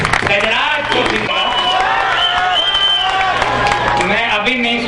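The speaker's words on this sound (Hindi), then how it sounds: "एक बार जोरदार तालियां बजाकर गजराज कौशिक" An audience at a Hindi poetry gathering (kavi sammelan) applauds, with loud continuous clapping and scattered cheers while a voice speaks over the crowd throughout.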